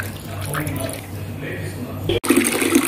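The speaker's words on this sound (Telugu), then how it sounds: "వాటర్ పోసి ఒక టూ టైమ్స్ శుభ్రంగా కడిగేస్తావా" Raw tripe being rinsed by hand in water, with sloshing and pouring sounds running steadily throughout under ongoing kitchen talk.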